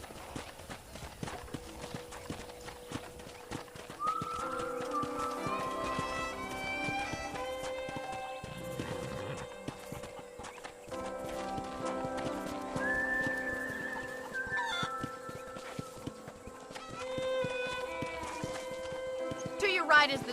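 Horse hooves clip-clop in Red Dead Redemption on a ranch, a steady trotting rhythm under continuous music and occasional speech.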